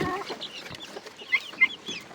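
Chickens, some of them sick, and guineafowl cluck on a farm: soft, irregular clucks and short chirping calls, fairly close, with a couple of sharper squawks standing out over a quiet background.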